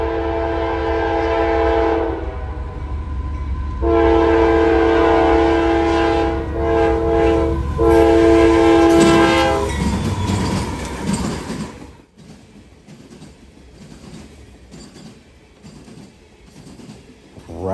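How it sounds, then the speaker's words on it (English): Coal train C318, hauling loads from Newell, Pennsylvania to Cross, South Carolina behind two AC44CW locomotives, one in YN2 paint, sounds loud, near and sustained horn blasts over rumbling rail noise, then rolls past with rhythmic clattering wagons. "C318, coal loads from Newell, Pennsylvania to Cross, South Carolina. Leading this are two AC-44CWs, one of them in YN2 paint."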